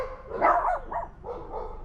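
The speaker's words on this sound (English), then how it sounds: "they got their dog barking" A neighbor's dog down the road barks a few times in a short burst, the yaps clear and fairly close, with no voices over it.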